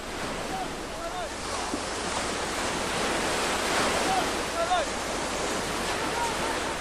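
Surf washing onto the Caspian Sea shore in a steady, broad wash of breaking waves with wind noise over the microphone, continuous and fairly loud throughout, with faint bird-like chirps above.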